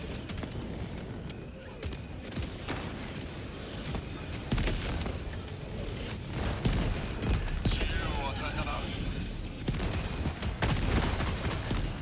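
Dense gunfire rolls on in a video game. Bursts of shots and distant booms carry on continuously while a player talks over them.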